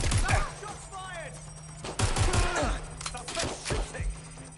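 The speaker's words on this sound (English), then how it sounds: "Shots fired." Gunfire in a PS4 action video game, several loud close shots and bursts spread across the moment, with game dialogue voices running underneath.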